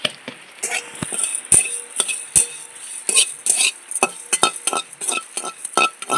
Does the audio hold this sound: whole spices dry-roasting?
yes